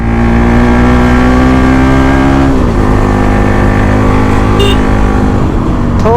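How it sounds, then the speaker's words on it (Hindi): A Bajaj Pulsar NS 200 motorcycle engine drones loud and close while riding at speed, its steady rising tone dipping briefly around a gear change before pulling again, with constant wind rush. "अब यहाँ से हम थोड़ा सा बाइक को भगाएंगे, ठीक है? कैसा भागता है ये बाइक देखते हैं गाइस"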